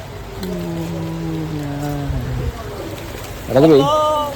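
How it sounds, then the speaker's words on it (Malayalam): Heavy rain falls outdoors as a steady, close wash of hiss, with a voice-like tonal sound running over it and a louder burst near the end. "മഴ കൂടുന്നുണ്ട് നല്ല മഴയാണ്"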